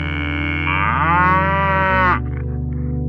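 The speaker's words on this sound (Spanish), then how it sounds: "Un sonido de vaca se escuchó de repente." A cow gives one long, loud, close moo that rises and swells before cutting off, leaving a lower background hum.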